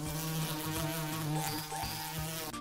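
Continuous buzzing of bees, a wavering droning hum that stays close and fairly quiet throughout, with no talking.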